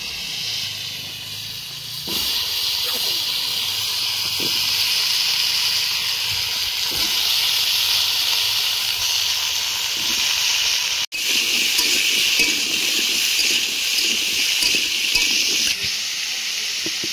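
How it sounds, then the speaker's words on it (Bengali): Pieces of mankachu taro sizzle in oil left over from frying small fresh fish, making a steady, dense hiss that swells louder partway through, with faint bumps and clinks from the pan. "বন্ধুরা এখন এই মাছ ভাজা তেলের ভিতরে আমি কচুটাকে একটু ভেজে নেব।"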